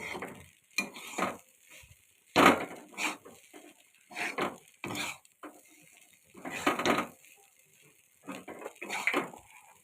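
A spoon stirs chira pulao, flattened rice cooked with vegetables, in a pan, giving a series of irregular scraping and clattering bursts with short quiet gaps between them.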